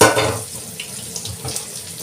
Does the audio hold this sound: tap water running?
yes